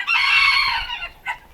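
A bantam rooster crows inside a small coop, one loud, drawn-out call followed by a short, softer note at the end.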